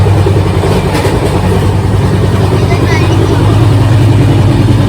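Steady low rumble and rattle of a moving train interior, continuous and fairly loud, with faint voices in the background.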